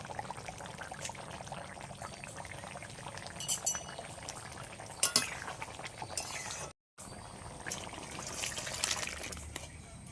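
Snake gourd boils in water in a wok, a faint steady bubbling with a few clinks and splashes, close and quiet, with a brief silent gap partway through and no talking.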